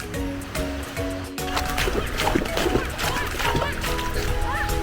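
Gentle sea waves wash at Khlong Phrao beach on Koh Chang, a continuous loud surf and splashing close by, with people talking and voices over the water throughout.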